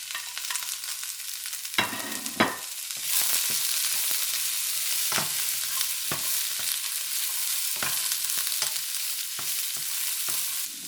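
Celery strips tossed into a hot wok for a cashew shrimp stir-fry: a couple of sharp clanks, then a steady loud sizzle with repeated scraping stirs of the spatula, close and continuous.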